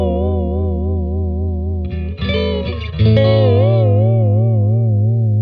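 A Squier Classic Vibe 60s Mustang electric guitar plays through effects with warbling chorus and distortion, sustained chords shifting to a brighter, higher passage midway, loud and alone.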